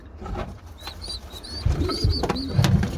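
Young red racing pigeons, freshly fed and close to weaning, coo softly in a loft, with a few low throaty coos and faint high squeaks from nearby birds.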